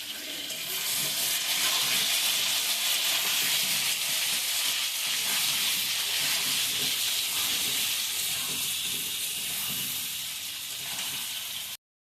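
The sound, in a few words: potatoes frying in a pan, stirred with a spatula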